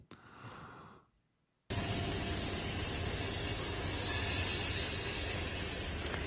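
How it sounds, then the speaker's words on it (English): Train passing on a live railway camera, steel wheels squealing in a loud sustained hiss-like screech that cuts in abruptly after a brief quieter rumble and a short gap, then holds steady and swells slightly. "Just a gorgeous train going by on this one."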